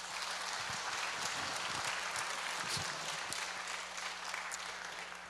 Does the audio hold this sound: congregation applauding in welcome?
yes